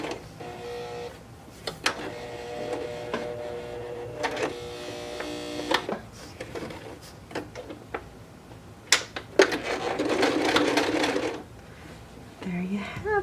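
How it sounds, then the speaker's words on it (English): A home sewing machine stitches a handle onto an upcycled jeans pocket purse, running in short mechanical bursts with pauses between passes, plus a louder run near the end. "And sew over that a couple times. And then do this last side."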